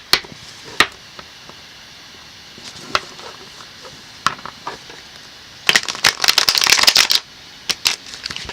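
Tarot cards are handled with scattered soft taps and flicks, then a dense burst of riffle-shuffling crackles for about a second and a half, close and fairly quiet, followed by a few more light taps.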